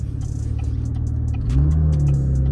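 A V6 Camaro fitted with an 80mm throttle body idles with a low rumble, then the revs climb sharply midway and hold higher, close and alone.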